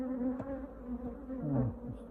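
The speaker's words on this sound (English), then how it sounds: "The bees in this hive were not pleased to see me" Angry honey bees swarm around an opened hive, producing a steady, close, high-pitched buzzing drone with wavering tones as individual bees fly past.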